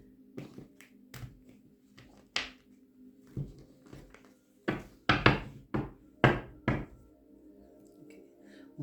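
A tarot deck is handled in a butterfly shuffle, producing a series of sharp, close card taps and slaps. They come sparse at first, then cluster into a quicker run of louder hits against a quiet room.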